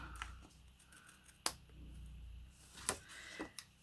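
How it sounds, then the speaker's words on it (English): Small snips trimming leftover card stock at the bottom of a card base, a few quiet, close, sharp snips spaced apart, with no talking. "go ahead and just trim down these little bits that are left over at the bottom, trying not to cut into the card base itself"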